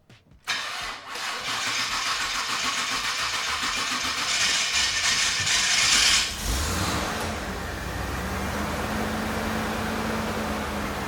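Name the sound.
supercharged OBS truck engine cranking and starting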